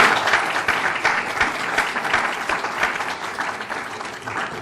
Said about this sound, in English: I'm just going to give you another round of applause for that